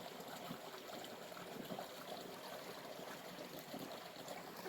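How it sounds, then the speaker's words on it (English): A river flows with a faint, steady trickling and rushing of water, continuous and even throughout, with no voices. "You can hear the sound of water."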